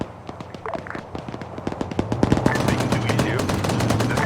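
Gunfire in a military video game: rapid bursts of automatic fire and scattered single shots, building from faint distant cracks to denser, louder volleys.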